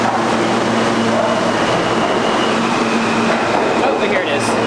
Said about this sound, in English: There's a train arriving right now